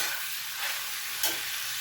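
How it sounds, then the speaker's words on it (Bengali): A spoon stirs vegetables frying with cumin and coriander powder for methi shaker chochori, a faint steady sizzle with soft scraping strokes and no talking. "এবার এর মধ্যে 1 চামচ জিরে গুঁড়ো আর 1 চামচ ধনে গুঁড়ো দিয়ে দেব, দিয়ে ভালো করে নাড়াচাড়া করে নেব।"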